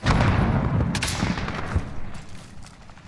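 Gunfire in the video game Warzone, a dense burst of shots and booms loudest at the start, then fading to a rumbling exchange further off.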